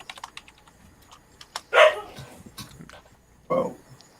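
A dog gives two short barks, spaced apart, over faint clicking like keyboard typing in the background.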